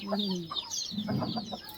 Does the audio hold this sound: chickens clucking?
yes